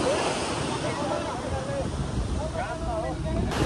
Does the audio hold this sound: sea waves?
yes